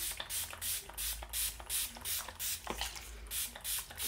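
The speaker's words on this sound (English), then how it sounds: "We are now gonna spray with our Active Skin Repair." Active Skin Repair skincare spray mists in a run of about nine short, even hissing bursts, close and fairly loud, with brief pauses between them and no talk.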